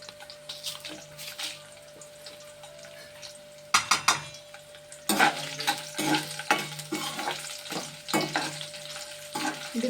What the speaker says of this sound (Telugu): ఇంకో గరిటె నూనె వేస్తున్నాను. ఇవన్నీ ఎండుమిరగాయలు వేసేస్తున్నాను ఇందులో.